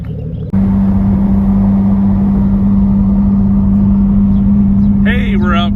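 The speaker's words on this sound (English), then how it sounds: "we're out cruising around the Z right now and got Mrs. D behind the wheel." A 1970 Datsun 240Z cruises along with a steady, loud engine drone heard from inside the car, starting abruptly after a brief quieter moment, with a voice speaking near the end.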